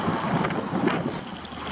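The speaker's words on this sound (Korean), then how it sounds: "결국 비가 내리기 시작했다." Rain begins falling outdoors along a coastal road during a bicycle trip, a steady hissing wash of drops with no voices, moderately loud and continuous.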